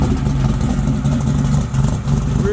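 A small-block Buick Regal rumbles through its exhaust mufflers with a steady, deep, mellow drone and slight revving, loud and close throughout, with no talk.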